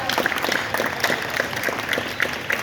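Audience applause for a guest during a keynote talk at a community college, brisk and moderately loud clapping with a few sharper claps standing out.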